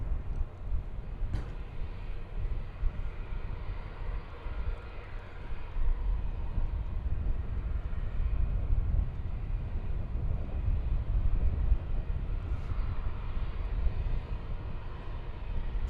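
An Airbus A321 airliner at DFW Airport makes a sustained, distant engine roar that rises and falls gently over a long stretch, with no talk over it.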